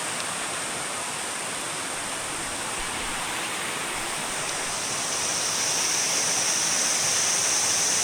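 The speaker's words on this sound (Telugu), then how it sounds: "సో ఇదన్నమాట వాటర్ ఫాల్స్, అక్కడ నుంచి వస్తున్న వాటర్ ఇది." Water pouring down from a waterfall in the Rampa hills: a dense, constant rushing roar with no breaks, growing slightly louder and brighter toward the end, heard alone.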